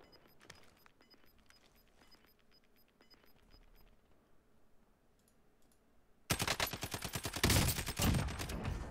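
Video game gunfire, faint scattered shots at first, then a loud sustained burst of rapid automatic fire in the last few seconds.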